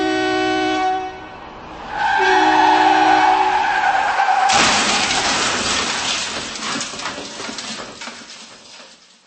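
A car skids and crashes as a sound effect: a sustained tonal screech of tires gives way midway to a sudden loud broadband impact and crunching debris that slowly fades out.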